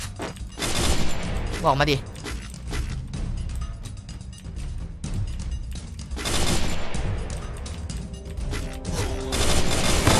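Gunfire in the mobile shooter Free Fire, with bursts of shots and crashing impacts spread through the stretch, loud and dense, while a player's voice talks over the fighting.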